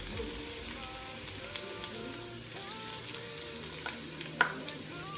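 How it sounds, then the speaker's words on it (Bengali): Garlic frying in oil in a home kitchen: a soft, steady sizzle sits under tonal background hum and faint clatter, with one sharp click near the end and no voices. "এবারে রসুনটা দেবো তেলে"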